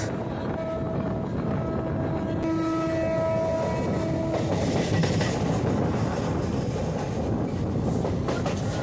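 A WAG-12 electric locomotive hauling parcel vans rolls past close by, sounding sustained horn tones early on before a steady roar and rhythmic wheel clatter take over.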